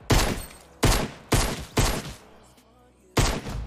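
Sniper rifle fire in the Fortnite video game: five loud, sharp shots, close and alone, the first four in quick succession, then a short pause before the last.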